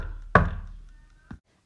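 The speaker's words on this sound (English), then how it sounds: "Puss knocked loudly at the gate" A loud knock on a castle gate, one heavy thud followed by a second, softer knock about a second later, with no other sound around it.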